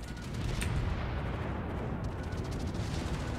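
Anti-aircraft guns on the cruiser Atlanta fire in World of Warships, a dense, continuous roar of rapid gunfire with booming low rumble, loud and sustained throughout with no one talking.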